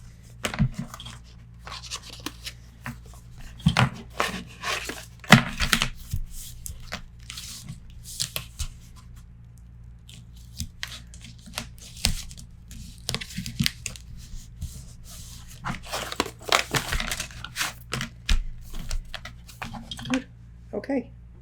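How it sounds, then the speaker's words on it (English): Paper for a mini album is trimmed up close, with bursts of crisp cutting, rustling and crinkling scattered throughout while a person talks between cuts. "I think I'm going to trim this before I put it in because I know it's too wide"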